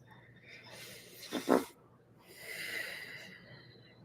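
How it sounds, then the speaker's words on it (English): A dog snores nearby: a snorting inhale followed by a long, wheezy, hissing exhale, quiet and close. "That's my dog snoring if you have like headphones on."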